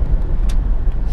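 A big truck rumbles past on a road in Thailand, a loud close low-frequency roar with a brief hiss partway through, heard alone without talk.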